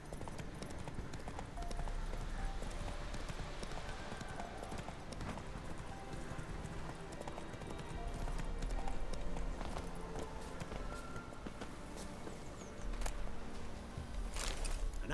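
Hoofbeats of Roach, the horse ridden in the video game Witcher 3, clip-clopping steadily at a run over a busy game soundscape with scattered clicks and a low rumble.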